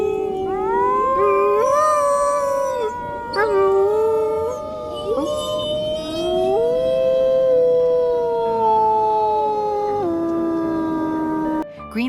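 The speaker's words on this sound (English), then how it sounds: "Finally, Green began howling toward the wolf pack, and the wolves noticed him" A wolf pack howls together in long overlapping wavering calls that slide up and down in pitch, loud and sustained throughout with no speech.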